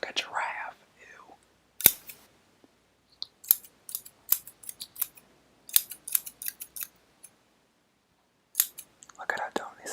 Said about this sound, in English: Look at how toned these scissors are